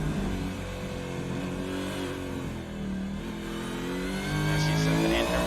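Super2 Series race car in iRacing at Mount Panorama, engine holding a steady drone in second gear with rising and falling revs, loud and close throughout.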